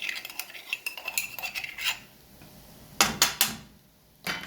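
A metal spoon scrapes and clinks around a pan, stirring a pounded black peppercorn and garlic mixture for beetroot poriyal in quick bursts of close, bright taps separated by short pauses.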